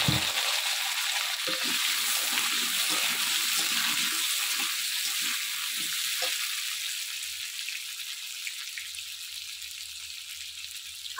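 Potatoes fry in oil in a pan, making a continuous, even hiss of sizzling with a few soft stirring knocks early on, then steady frying alone.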